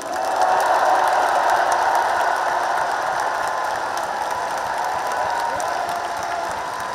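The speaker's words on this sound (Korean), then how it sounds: "우리 두 분 후보님께 뜨거운 격려의 박수를 부탁드립니다" Sustained, dense applause from a large audience at a Democratic Party of Korea presidential nomination convention, cheering two candidates. It is steady and loud throughout, with no speech over it.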